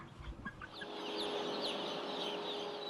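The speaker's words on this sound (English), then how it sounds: "Once these baby chicks start tucking into their specially developed high-protein feed" Ross 308 broiler chicks on a modern broiler farm, a flock of young birds giving high, thin peeps and chirps over a steady murmur of many birds, close and moderately loud.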